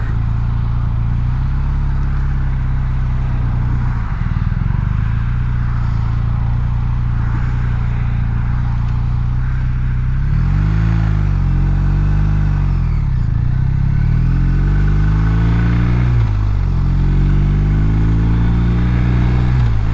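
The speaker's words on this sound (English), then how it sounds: "Wow, a lot of traffic." Heavy rush-hour road traffic at five o'clock, with cars and motorcycles rumbling past close by in a steady low drone, engines revving and pitching up and down as vehicles accelerate and pass.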